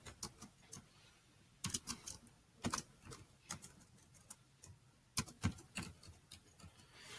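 Faint, irregular clicks of fingers typing on a computer keyboard, with a key held down, arriving in scattered bursts and small clusters against a quiet room background.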